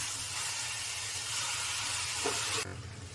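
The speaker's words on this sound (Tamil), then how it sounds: "இப்போது எண்ணெய் கொஞ்சம் ஊற்றிக்கலாம்" Hot oil pours into a gram flour mixture for Mysore pak, a continuous loud hissing sizzle up close that cuts off abruptly near the end.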